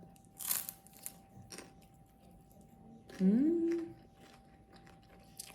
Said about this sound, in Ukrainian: Я не можу не чавкати.